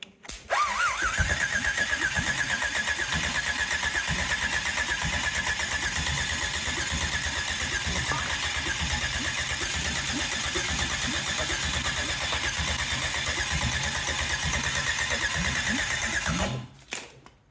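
A GM LS engine (LS3) mounted on a home-built test stand with no headers fitted, cranked on the starter and then running: a steady, loud, continuous mechanical drone lasting about sixteen seconds before cutting off abruptly.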